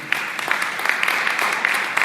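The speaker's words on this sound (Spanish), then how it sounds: "Den un fuerte aplauso al Señor." Church congregation clapping in a steady, dense burst of applause at moderate loudness, with many hands overlapping throughout.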